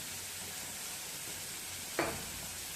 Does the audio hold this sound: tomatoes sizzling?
yes